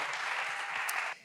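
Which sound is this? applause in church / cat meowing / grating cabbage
applause in church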